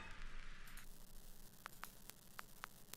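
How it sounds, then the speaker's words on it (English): Vinyl distortion device adding record crackle and noise: a steady hiss and low rumble bed with a brighter noise band early, then several sharp, isolated clicks and pops scattered over the last half. "I have this vinyl distortion device"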